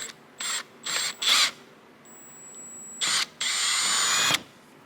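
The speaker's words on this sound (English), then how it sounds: "I have the drill set up with a 1764 drill bit, which is what I'm going to use to drill this M5 bolt holes" A power drill with a 17/64 bit bores M5 bolt holes in polycarbonate rear glass, whirring in five close bursts of about a second each, the last longer, separated by quiet gaps with a faint tone.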